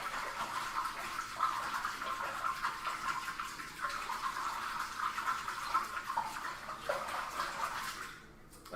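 Steady swishing and sloshing of liquid as homebrew saison ingredients are stirred in a bucket, continuous and fairly close for several seconds before easing off at the end.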